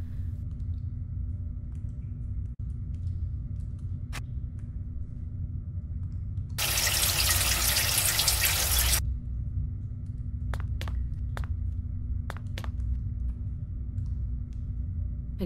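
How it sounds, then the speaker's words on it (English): A tap runs in the adventure game Still Life 2, a burst of bright gushing water lasting a couple of seconds over a low steady room drone, followed by scattered faint clicks. "This tap seems to be working."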